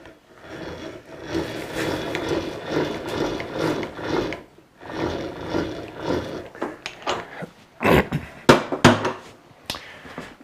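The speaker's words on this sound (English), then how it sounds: "so I can cover it all with with that mill, and we're going to face this off" A milling machine facing off a metal clamp bar for a bending brake, producing a steady grinding, rasping cut that pauses briefly, then gives way to louder clanks and knocks near the end.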